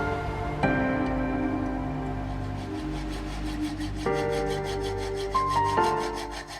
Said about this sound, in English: modifying the existing crimp on the end of the micro throttle cable